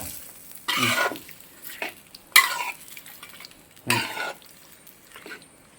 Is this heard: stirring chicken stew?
yes